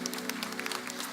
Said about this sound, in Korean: 우리 시간 그대로 힘찬 축복의 박수 하겠습니다